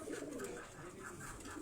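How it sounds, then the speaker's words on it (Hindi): Teddy Kasuri pigeons give soft, repeated rolling coos at close range in a quiet setting. "ये जो कबूतर आप देख रहे हैं ये टेडी कसूरी कबूतर हैं।"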